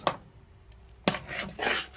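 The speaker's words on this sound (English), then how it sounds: "Just continue to stir as you go along." A utensil knocks sharply twice against a pot of Jamaican peanut porridge on a hot stove, with softer scraping between the hits, close and clear with no voices.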